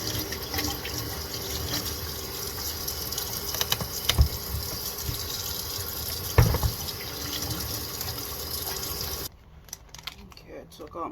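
Tap water runs steadily while hands are washed at a home sink, a continuous close gush with a few clunks, cutting off abruptly near the end before quieter handling noises.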